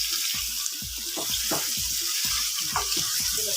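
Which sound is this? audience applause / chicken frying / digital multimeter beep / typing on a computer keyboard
chicken frying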